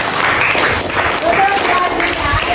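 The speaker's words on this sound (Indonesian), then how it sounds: "Terima kasih, tepuk tangan." Applause in a classroom, a dense, steady patter of many hands clapping close by for a couple of seconds, with voices mixed in.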